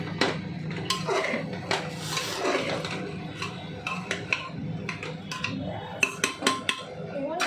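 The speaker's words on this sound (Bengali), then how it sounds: "যদি নাড়িয়ে নিই খাবারটা" Chicken curry stirred in a pot, a spoon scraping and clinking against the metal in irregular bursts, with a sharper cluster of knocks near the end.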